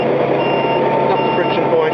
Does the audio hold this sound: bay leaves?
no